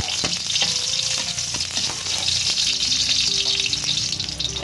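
Chopped onion frying in hot oil, a steady close sizzle with occasional scraping and stirring sounds from a utensil in the pan.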